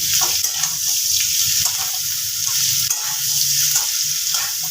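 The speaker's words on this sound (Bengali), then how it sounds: "তো ফুলকপিটা একটু লাল করে ভাজবো" Cauliflower pieces sizzle and fry steadily in an oil-filled pan, a continuous close hiss with soft stirring scrapes, while a home cook prepares a cauliflower roast.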